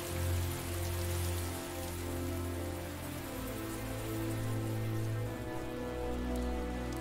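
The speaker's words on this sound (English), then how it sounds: "Man, it's still raining pretty heavily," Heavy rain pours steadily in the adventure game Mystery Trackers: The Void, a dense, continuous hiss of drops on surfaces with a low rumbling bed, and no voices.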